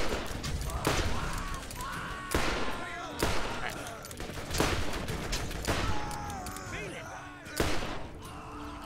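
Repeated gunshots in the video game Borderlands, fired at an explosive barrel, come as sharp loud bursts about once a second across a busy game soundscape, with players talking over the shooting.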